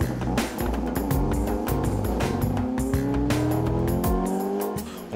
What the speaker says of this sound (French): Nathan José a sans doute manqué un peu de confiance au moment d'attaquer la montée officielle avec son Opel Kadett GT